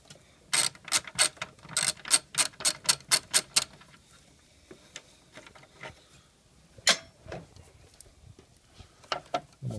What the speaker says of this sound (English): now we got our 10mm socket. Just take these loose for the shroud